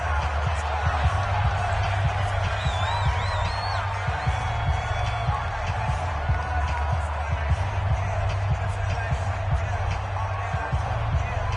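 Steady stadium crowd roar inside a dome in a PS4 football game, a dense continuous rumble with scattered whoops and cheers, sustained at even loudness throughout.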